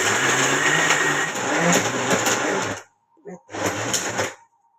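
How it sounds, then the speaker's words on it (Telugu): A kitchen mixer grinder blends fenugreek leaves and curry leaves with a loud, steady whirring grind that runs continuously, cuts out abruptly, then restarts in a short pulse and a final burst before stopping. "కొద్దిగా మేతి ఆకు కరివేపాకు వేసేసి మిక్సీ వేసుకుందాం"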